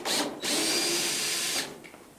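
A power drill backing old screws out of a metal roof, two high whining bursts, a short one and then a longer sustained spin, loud and close before winding down, with no talk.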